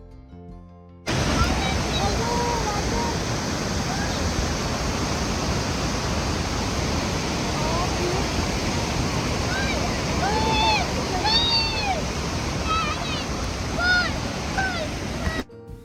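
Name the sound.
Niagara Falls waterfall water roaring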